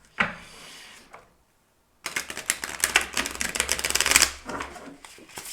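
A deck of tarot cards is shuffled close by, first a brief riffle, then a silent gap, followed by a few seconds of dense, rapid flapping and clicking cards with no talking.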